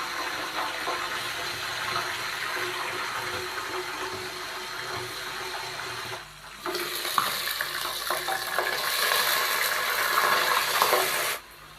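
Water pours into a covered pot of golden-fried onions while cooking chana pulao, a steady rushing splash that briefly stops, then resumes louder before cutting off.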